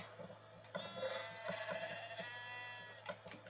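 Sheep bleating in the video game Minecraft, a few wavering harmonic bleats at moderate level rising over a faint steady hum, with no talking.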